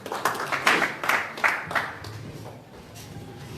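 A church congregation applauding, a short burst of several quick hand claps that fades within a couple of seconds into quiet room tone.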